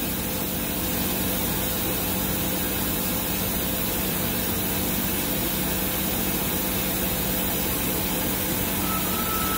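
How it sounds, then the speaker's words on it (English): A 2008 Tsugami SS20 CNC lathe runs its main spindle at 500 RPM, giving a steady, even mechanical hum with a constant whir layered on top. The sound holds unchanged throughout and no one speaks. "It's main spindle, 500 RPM."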